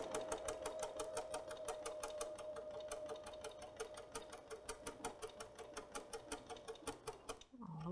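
Sewing machine stitching quilt pieces along a seam, a brisk regular needle tapping over a soft motor whir that slows and pulses near the end before stopping, close and without talk.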